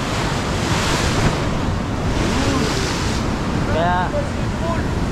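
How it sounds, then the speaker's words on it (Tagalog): Strong ocean surf rolls and crashes continuously, mixed with gusty wind buffeting the microphone; faint distant calls come through briefly. "Masyado pang lumakas ang alon"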